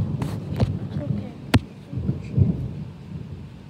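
Thunder rumbles low through a thunderstorm with a sharp crack partway through, heard under excited voices and a light rain-like hiss.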